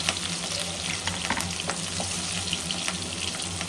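Chopped onions and green chillies fry in a hot pan for lunch, giving a close, steady sizzle with light stirring scrapes and no talking.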